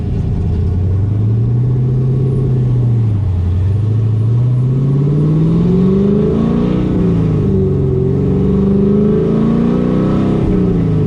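A 1969 Camaro with a cammed LS engine swap idles high, its loud, close, lumpy rumble rising and falling in pitch with light revs throughout.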